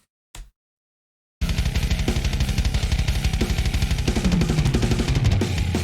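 After a short blip and a second of silence, a programmed drum pattern starts and keeps a fast, steady, machine-like beat of punchy hits to the end.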